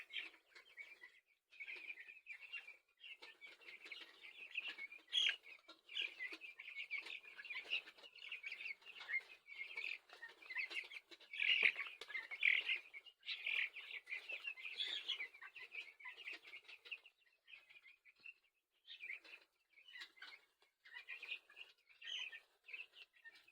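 Two-week-old chicks and other young fowl in a small poultry pen at morning feeding, giving a dense, continuous chorus of high peeping and chirping close by, with no talking.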